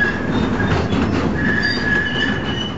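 A West Clare Railway museum train running along its straight track, loud and close, with steady rolling wheel noise, rhythmic clatter and thin high wheel squeal sustained throughout, no speech.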